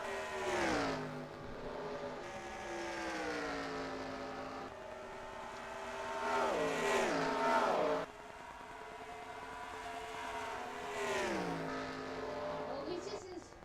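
NASCAR Cup stock cars racing in NASCAR Racing 2003 at the AAA 400, a continuous loud engine drone that rises and falls in pitch as cars rev and pass, with a commentator talking over it throughout.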